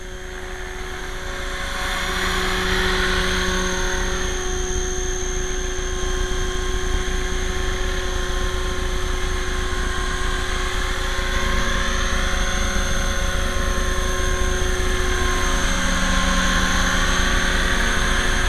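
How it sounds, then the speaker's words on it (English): A small battery-powered remote-control helicopter flies steadily overhead, a constant whirring rotor hum at moderate distance, rising and falling slightly as it moves, with no talk. "Seems like a pretty fun aircraft to fly around."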